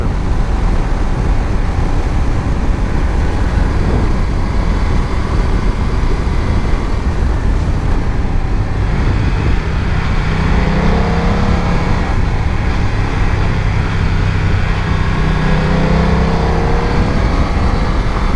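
A BMW F900 XR motorcycle rides along winding roads, its engine droning steadily and loud throughout under heavy wind rush, with a rising tone as it pulls hard in third gear.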